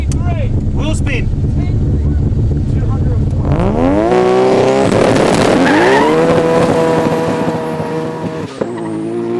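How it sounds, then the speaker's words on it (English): A Nissan GT-R spins its wheels at a runway drag race, the engine revving hard with rising pitch sweeps and a loud tyre squeal and skid, ending with an abrupt shift near the close. "Wheel spin."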